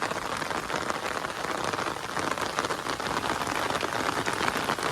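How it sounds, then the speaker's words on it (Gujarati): Steady, dense rain patters hard on surfaces nearby, a continuous hiss of drops with no voices. "અમારા ગામમાં વરસાદ ચાલુ થઈ ગયો છે"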